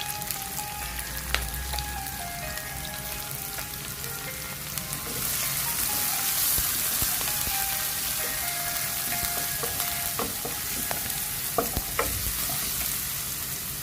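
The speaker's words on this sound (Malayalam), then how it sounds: "നമുക്കിനി കൊച്ചുള്ളി, ഇഞ്ചി, പച്ചമുളക്, കറിവേപ്പില എല്ലാം ചേർത്ത് കൊടുക്കാം. ഇതൊന്ന് നന്നായിട്ടൊന്ന് വഴന്ന് കിട്ടണം, മൂത്ത് കിട്ടണം" Shallots, ginger, green chilli and curry leaves fry in a pan with oil for Kerala-style upma, giving a steady close sizzle with crackles and occasional stirring scrapes that brighten partway through.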